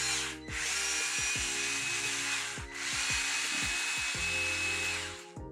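A power screwdriver unscrews a screw on a Traxxas TRX4 Sport RC truck, whirring steadily in two long bursts with short pauses and clicks, close and clear with no talk.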